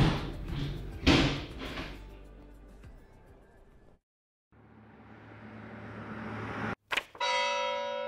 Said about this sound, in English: The 8 a.m. bell rings.